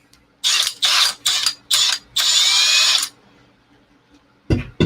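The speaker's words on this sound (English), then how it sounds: "Yeah, that's a cordless drill, but fucking thing has a lot of torque." A high-torque cordless drill runs in five bursts, four short revs and then one sustained whir lasting about a second, loud and close, with a brief clunk at the end.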